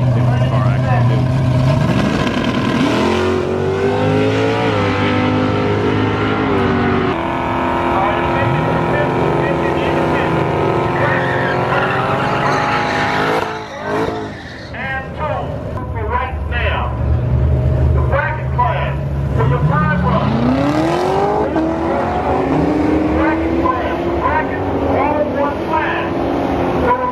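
A drag race car making a 13.9-second pass down the strip, its engine revving and rising in pitch through several gear changes, loud and close, with a brief dip midway, under crowd noise and talk.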